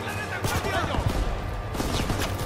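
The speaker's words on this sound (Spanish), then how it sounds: "Ametralladora en el primer piso, a cubierto." Machine gun fire in the World War II shooter game Call of Duty: WWII, a rapid burst of rattling shots heard under a player's excited talking.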